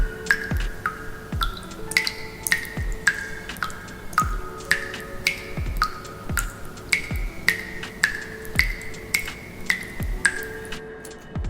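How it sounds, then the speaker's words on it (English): Steady drips from a leaky faucet fall one after another at an even pace, each a bright plink that rings out with added reverb. No voices. "the next thing I did with the leaky faucet sound, with the reverb applied to it"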